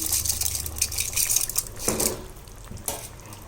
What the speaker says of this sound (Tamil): அரிசி போட்டு நல்லா கிளறி விட்டுட்டு